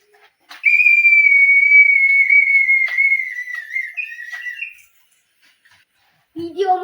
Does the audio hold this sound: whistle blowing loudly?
yes